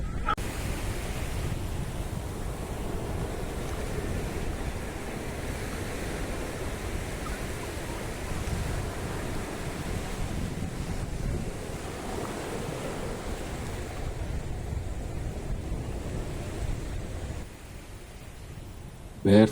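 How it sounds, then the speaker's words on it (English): Small waves wash gently onto the warm sand of Nagoa Beach in Diu, Gujarat, a steady surf hiss with wind buffeting the microphone, faint voices underneath, and a sharp knock right at the end. "Barefoot, we are wandering down the warm sand, letting tiny waves wash our feet so that Ayush can feel the water for the fir"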